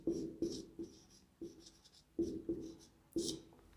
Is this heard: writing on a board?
yes